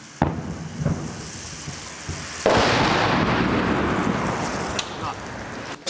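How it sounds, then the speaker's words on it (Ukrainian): Heavy artillery shelling explosions boom from a distance on residential quarters in Avdiivka, with one loud blast followed by rumbling and scattered crackling thuds. "за дві хвилини починається артилерійський обстріл житлових кварталів"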